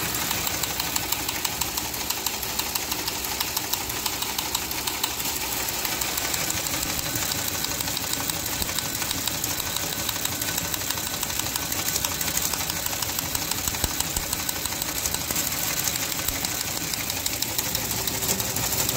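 A Teletype Model 28 ASR and KSR setup runs punched tape through its reader and prints on two page printers, producing a dense, steady mechanical clatter of rapid rhythmic ticking that continues throughout at close range.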